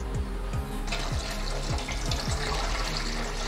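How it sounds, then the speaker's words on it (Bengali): Tap water runs steadily over snake gourds being washed in a sink, a continuous close splashing rush with small knocks and handling sounds throughout, no talk. "এবার আমি চিচিঙ্গাগুলো ধুয়ে নেব।"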